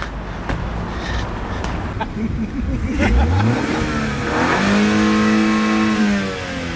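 A BMW X1 with a 2-litre engine accelerates close by, its engine note rising and climbing through the revs, loud and steady, with a faint voice under it.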